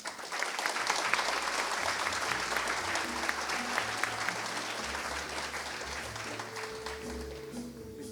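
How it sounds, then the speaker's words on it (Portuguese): Warm audience applause greets engineer Mauro Kern at a FEI innovation congress in Brazil, a dense steady roar of many hands clapping that holds loud and even throughout, with a few faint voices in the crowd. "recebemos carinhosamente e calorosamente, com os aplausos de vocês, as boas-vindas que daremos ao engenheiro Mauro Kern"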